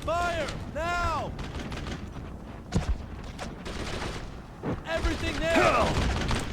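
A squad trades gunfire in the World War II shooter Brothers in Arms: bursts of rifle and machine-gun shots with a couple of sharp bangs, mixed with shouted voices throughout.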